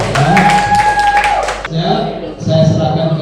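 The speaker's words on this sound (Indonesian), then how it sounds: "Kita kasih tepuk tangan kelompok 2." A classroom gives group 2 a brief burst of clapping, quick sharp claps lasting under two seconds, overlapped by a sustained tone, before talking takes over.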